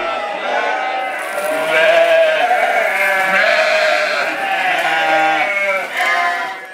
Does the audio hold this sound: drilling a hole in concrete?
no